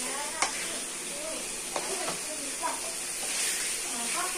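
Mutton brain sizzles steadily in a pan with occasional scraping stirs and soft clinks, a continuous hiss with a few sharp taps.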